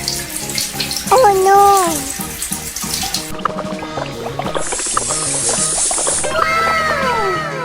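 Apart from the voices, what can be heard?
bathroom tap running at full blast, cartoon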